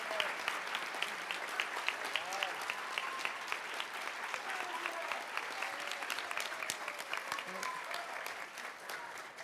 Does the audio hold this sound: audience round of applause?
yes